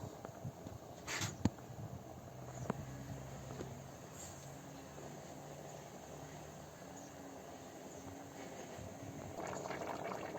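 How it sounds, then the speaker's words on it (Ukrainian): Rice simmers in a pot with a steady bubbling hiss, quiet and close, punctuated by a few faint clicks and no speech. "вже закипів наш рис"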